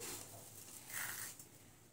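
Dry, crisp rustling and light scraping of flattened rice (poha) being dry-roasted and stirred in a pan, soft and steady with no voices.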